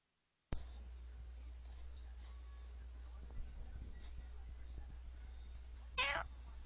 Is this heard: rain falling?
no